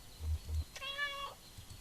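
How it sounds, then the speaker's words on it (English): A cat in the game Kentucky Route 0 gives a single clear meow, drawn out and tonal for about half a second, after two soft low thumps, with no talk. "Just do a meow."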